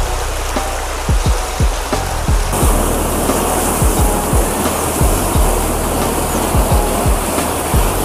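Fast-moving water rushes and splashes steadily through a village channel, with repeated low thumps and surges, no voices.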